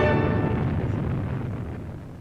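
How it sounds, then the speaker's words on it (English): A deep, rumbling explosion from the video game The Witness rolls out and slowly fades over a couple of seconds, a heavy low boom with a long decaying tail and no voices. "It was an explosion."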